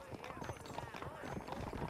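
Horse hooves clip-clop steadily in the Red Dead Redemption video game, a busy rhythmic patter under voices talking over it, moderately close but partly masked by the speech.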